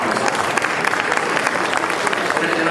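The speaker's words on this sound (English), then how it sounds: "please give Mayor Turner a round of applause" Steady applause from an audience, dense clapping that holds at an even level throughout.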